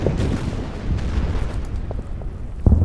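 Naval gunfire in the strategy game Order of Battle, set at Saipan: a steady rumbling roar of booming blasts, dense and fairly loud, with a sharper thump near the end and no voices.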